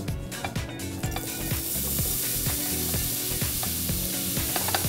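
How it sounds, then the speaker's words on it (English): Small-cut andouille sausage sautés in hot olive oil, sizzling loudly and continuously up close, with scraping and clanking of a utensil stirring through the pan. "So we're gonna saute a little bit of andouille sausage."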